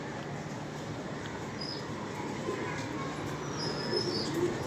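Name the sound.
pigeons cooing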